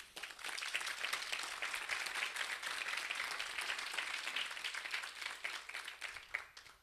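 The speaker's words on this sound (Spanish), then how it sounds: "para quien pido un aplauso." An audience at a botanical garden inauguration ceremony in Mexico applauds, a dense, even wash of clapping from a sizable crowd heard at a distance, steady for several seconds before tapering off.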